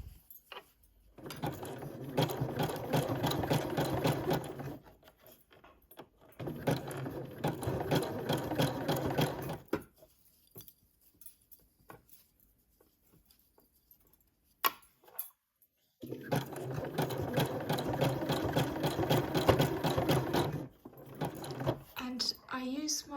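A sewing machine stitches a coil of fabric-wrapped rope into a bowl, running in two long, steady whirring bursts separated by a quiet pause with small handling clicks, close up.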